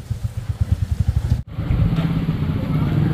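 Motorcycle engine chugging in a rapid, pulsing idle rhythm up close, then a brief cut and a busier, steadier engine drone with street background noise.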